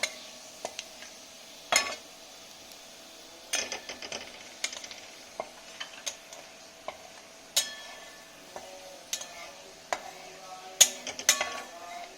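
White cumin seeds tempering in a pan are stirred with a utensil, producing sharp, scattered clicks and scrapes against the metal. The close, irregular taps stand out over a quiet background with no talking.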